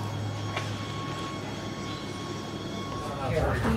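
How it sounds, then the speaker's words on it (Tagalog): Inside a train travelling from Wengen down to Lauterbrunnen in the Swiss mountains, a steady low rumble and rolling wheel noise fill the carriage, with a faint squeal near the end. "The train to Lauterbrunnen from Wengen."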